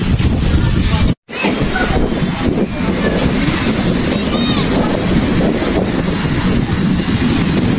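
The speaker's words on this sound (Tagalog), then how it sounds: "Maalon na ang dagat." Rough sea waves and strong wind roar at sea, a loud, continuous wash of water and gusting wind buffeting the microphone, broken by one brief dropout near the start, with people talking over it.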